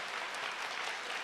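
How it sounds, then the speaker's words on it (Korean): A church congregation applauds during a Korean harvest-thanksgiving intergenerational worship service; the clapping is dense and steady, filling the brief moment without any voices. "우리 하나님께 감사와 영광의 박수 한번 올려드리도록 하겠습니다."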